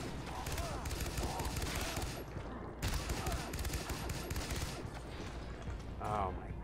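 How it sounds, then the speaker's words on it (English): Fireworks exploding in the video game Far Cry 3: Blood Dragon, a dense, continuous barrage of rapid popping bangs with brief crackling bursts over a steady game background. "they're shooting fireworks for me!"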